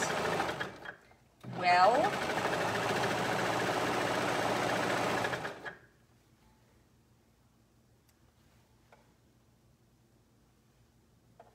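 A home sewing machine stitches a holiday nightgown in a loud steady run of about four seconds, then stops abruptly into near silence; a brief spoken word comes just before it starts.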